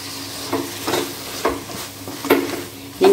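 Vegetables and soya chunks sauté in a pan for a vegetable biryani, giving a steady sizzle broken by several sharp scraping stirs spaced about a second apart, with no talking.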